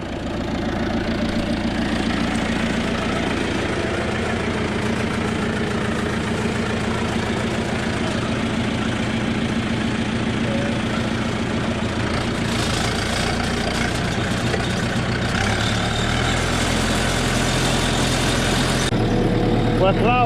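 A farm tractor set up for ploughing runs steadily, its engine giving a continuous low rumble and chug close by for the whole stretch, with a slight shift in tone near the end.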